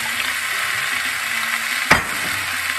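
Drumstick pieces and vegetables sizzle gently in a low-heat frying pan while cooking shukto, a soft continuous fry with one brief clink of the spatula as they are stirred.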